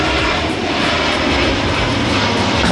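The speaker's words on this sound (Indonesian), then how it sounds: "Sabar guys, pesawat." An airplane flies overhead, a loud, steady engine roar that stays constant and close for the whole stretch, with no talk over it.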